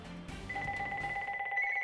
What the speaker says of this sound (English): Every time the phone rings